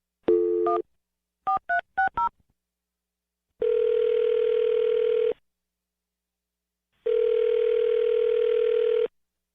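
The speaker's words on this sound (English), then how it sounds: "I'm going to dial her phone number right now." Several quick touch-tone beeps of a number being dialed, then two long, steady ringing tones separated by silence.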